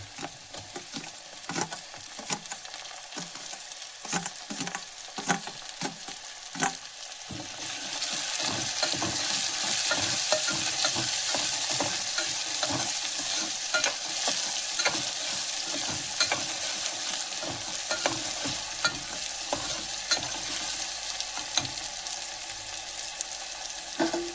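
Chopped tomatoes sizzle and fry in a pan for brinjal olo, with a spoon scraping and stirring in repeated strokes. The frying grows louder and steadier partway through and carries on alone without talk.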